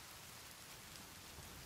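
Steady rain falls in the survival video game The Forest, a soft even hiss with faint scattered drop patter throughout, no voices over it.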